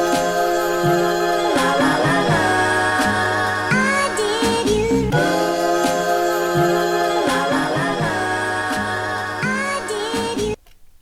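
A sped-up, high-pitched time-stretched music sample loops in FL Studio, with bright chopped melodic fragments and steady bass, repeating before cutting off abruptly near the end.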